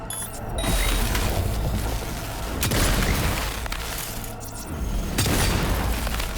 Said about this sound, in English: Destroy the firewall device to disable the systems.